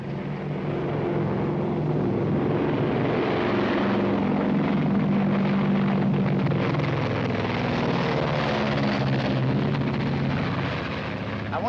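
A propeller airplane engine drones steadily overhead in a 1939 film scene, a loud continuous hum with low tonal bands throughout, no talk over it.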